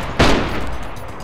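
A single sharp, loud burst from an MK48 machine gun in DayZ on Deer Isle, a close crack that fades into a short reverberant tail, with no talk over it.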